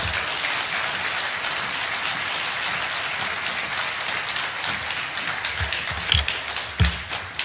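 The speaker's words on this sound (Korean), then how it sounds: "박수로 환영해 주시기 바랍니다" Congregation clapping in a church sanctuary to welcome a missionary, a steady patter of many hands at moderate level, with a few louder thumps and knocks near the end.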